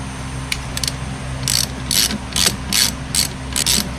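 A ratchet fitted with a 10 millimeter socket clicks on a Jeep Compass auxiliary battery, with a few short bursts followed by a run of quick, close, rhythmic ratcheting strokes over a low background hum.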